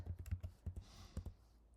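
Fingers type on a computer keyboard, close and quiet, in a quick uneven run of soft clicks with short pauses.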